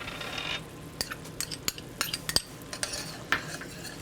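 Dijon mustard and gherkins being stirred into a thickening charcutière sauce for pork chops, with a spoon clinking against the pan in a run of light, irregular taps and scrapes over a soft sizzle.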